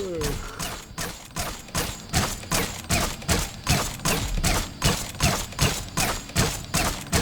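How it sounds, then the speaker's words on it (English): A semi-automatic crossbow in Dishonored 2 fires in a steady, rapid mechanical rhythm, about three shots per second, each a sharp snapping thud repeating evenly for several seconds. "Now this is what the new and improved semi-automatic firing crossbow looks like"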